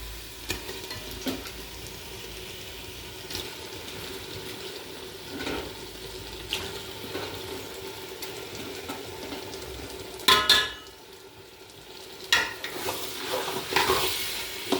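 Chicken pieces fry in a spiced masala of chilli powder and pepper, a steady sizzle up close with occasional clinks and scrapes as a spoon stirs the pan.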